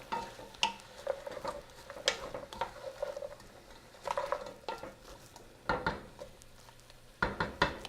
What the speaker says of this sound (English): And then you add your 1/4 cup of sake. Give it a stir.